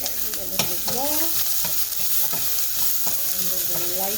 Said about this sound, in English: go ahead and add my onions and garlic